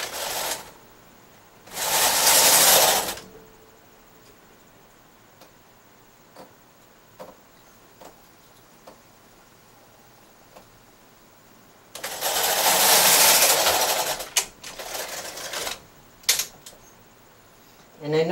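A domestic knitting machine working a double jacquard slip-and-tuck pattern in blue yarn gives two loud bursts of carriage noise, one early and one later, separated by quiet clicks and ticks, with no talk.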